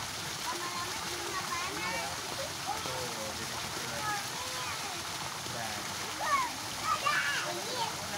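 Water splashes in a pool at the Ciater hot spring resort, with irregular sloshing and splatter set against a steady wash of water, and children's voices and chatter heard throughout.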